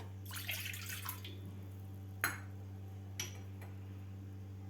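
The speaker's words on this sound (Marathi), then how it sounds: "तर यामध्ये घालायचं आपल्याला आता पाणी सुरुवातीला" A brief pour of water splashes into a mixing bowl for besan papdi dough, followed by a few distinct drips and taps over a low steady hum.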